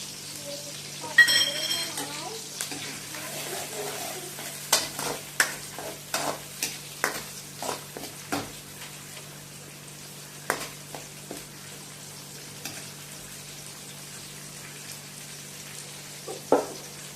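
Green chillies and curry leaves fry in hot oil with a steady sizzle, broken by many sharp taps and scrapes of a spoon against the pan, close and without talk.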